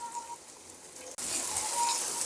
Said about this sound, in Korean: 아까 손질한 편마늘, 청양고추, 양파찹을 같이 넣어서 볶아줍니다.